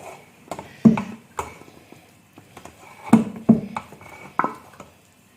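Carrot halwa is spooned from the pan into a serving dish: scattered light metallic clinks and scrapes of a spoon against cookware, with soft, close taps and quiet pauses between them.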